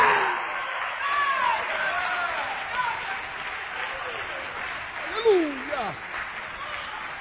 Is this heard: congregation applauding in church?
yes